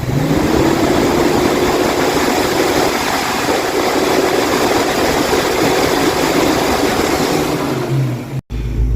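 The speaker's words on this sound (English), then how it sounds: "Let's see what it does when we give it full throttle. Rev it up, boy!" A Ford Mustang engine fitted with a Duraspark 2 distributor is held at full throttle, a loud, sustained roar close by that stays steady before dropping off abruptly at the end.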